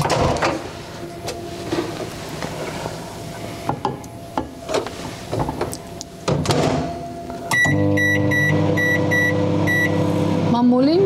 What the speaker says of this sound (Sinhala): අපි දැන් මේක මයික්‍රෝවේව් එකේ විනාඩි 5ක්